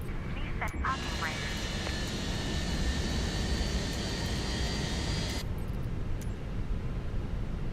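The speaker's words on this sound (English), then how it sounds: "We're going to start up engine 1." Engine 1 of an airliner spools up in a flight simulator game, a steady rising whine that holds for several seconds before cutting off, heard over a continuous background rumble.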